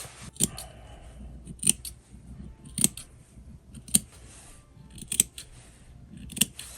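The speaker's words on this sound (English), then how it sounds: "make sure you cut a little bit right there" Scissors snip through fabric at the corners of a handbag, with about six crisp, close cuts in a slow, steady rhythm over quiet background.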